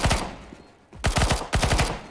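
Desert Eagle pistol shots in Counter-Strike: Global Offensive, loud and close, firing in rapid bursts of several sharp cracks with a short lull between groups.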